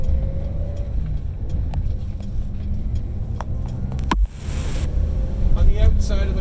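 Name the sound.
1984 BMW 633 CSi coupe driving off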